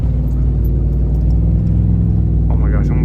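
Truck exhaust rumbling steadily with a deep, continuous low drone, running hot after riding, loud and close with a brief higher-pitched whine near the end.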